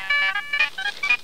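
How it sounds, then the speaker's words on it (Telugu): A mobile phone ringtone in a Telugu film scene, a bright electronic melody of short repeated tonal bursts, close and clear with no talking. "నీకే ఫోన్ వచ్చినట్టుందయ్యా, తీసి మాట్లాడు."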